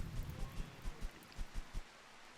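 Rain patters faintly in the RimWorld video game, a soft steady hiss with a few low drops and thuds tapping through it, quiet and alone.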